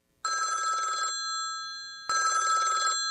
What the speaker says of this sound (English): When this red phone rings, a 4-star general or the President of the United States is supposed to be calling.